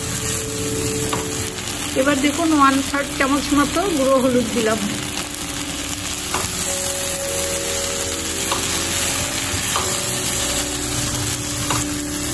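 Green tomato and eggplant sizzle in a pan with little oil, a busy crackling fry that swells briefly then settles to a steady hiss, while someone talks over it.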